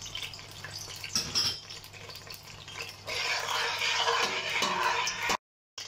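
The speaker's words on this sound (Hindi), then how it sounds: "देखिए हमारी ये इलायची शू शू करना शुरू हो गई है।" Green cardamom pods sizzle in hot ghee in a pan, a soft crackling fry that swells into a louder, steady hiss partway through, close by and without speech, before cutting out briefly.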